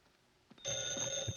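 Telephone bell ringing in a radio drama, starting abruptly after a brief quiet moment and continuing as a steady, bright, fairly loud ring.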